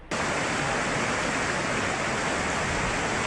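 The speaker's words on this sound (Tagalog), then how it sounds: "Sa gitna ng rumaragasang ilog sa Negros Oriental" A loud, constant roar of a raging flooded river in Negros Oriental starts abruptly and holds steady throughout, thick and noisy like a torrent close by.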